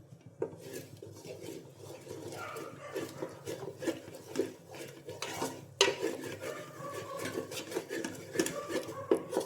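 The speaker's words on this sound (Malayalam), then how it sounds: "സാധാരണ സ്ക്രാമ്പിൾഡ് എഗ് ഒക്കെ ഉണ്ടാക്കുന്ന പോലെ ഒന്ന് സ്ക്രാമ്പിൾ ചെയ്തെടുക്കുക" Eggs seasoned with black pepper are scrambled in a pan, with quiet, irregular scraping, stirring and clinking of a utensil against the metal that keeps going throughout.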